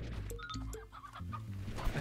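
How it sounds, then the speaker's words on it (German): Chickens cluck in the farm video game Slime Rancher, a flock of short overlapping clucks and squawks close by with steady game sounds behind. "wie viele Hühner man mal hier zusammenkriegt"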